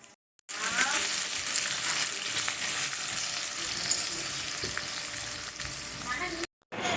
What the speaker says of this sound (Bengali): আমি হচ্ছে ঘি দিয়ে ভাজবো না আমি সাদা তেল দিয়ে ভেজে নিচ্ছি